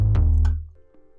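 A synth bass preset called Blue Sunday from the Harmless plugin sounds one deep, punchy note that decays within about half a second. A faint, quieter tone follows it. The sound is heard on its own.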